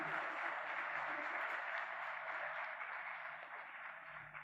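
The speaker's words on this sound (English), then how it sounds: "A big round of applause for our today's chief guest" A convention audience gives a round of applause for the chief guest, a steady, fairly faint wash of clapping that lasts several seconds and gradually fades slightly toward the end.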